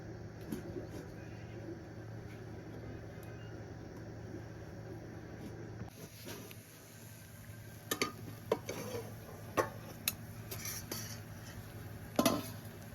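A lid is lifted off a cooking pot of bhuna khichdi simmering on low flame, giving a few faint metallic clinks and taps in a quiet kitchen after a soft steady hum.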